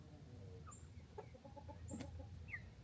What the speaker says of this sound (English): Oh, silly chickens, silly chickens.